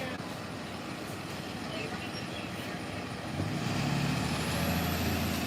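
A bus pulling up and stopping, its low engine rumble building toward the end with a rising hiss of air brakes, fairly close and continuous, with faint talk in the background.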